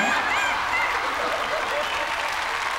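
Steady applause from a studio audience at a TV comedy sketch show, with a performer's voice calling out over the clapping.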